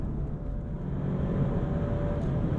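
A 2022 Alfa Romeo Giulia engine under way, a low steady drone with a faint rising tone, heard from inside the car while driving.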